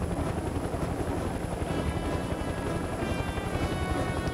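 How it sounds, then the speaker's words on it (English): Steady, loud whirring of a helicopter in the video game Mercenaries 2: World in Flames, its rotor chop and engine drone continuous throughout with no break. "Come on, helicopter. How do I get you to go fast?"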